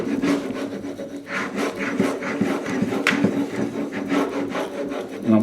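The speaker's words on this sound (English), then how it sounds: "And begin the hammering process." A veneer hammer pressed and dragged across wood veneer laid over glue, working from the middle outward, making repeated rasping, rubbing strokes in an uneven rhythm, close and fairly loud, with no talking.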